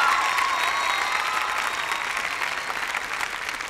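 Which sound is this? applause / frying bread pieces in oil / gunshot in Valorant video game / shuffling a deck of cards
applause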